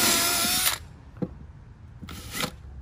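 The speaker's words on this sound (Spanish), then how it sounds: "un hoyo para guiar el tornillo" A power drill bores a pilot hole for a screw in wood while a floating bench is built, giving a loud steady whine that cuts off, then a short second burst after a tap, with no talk.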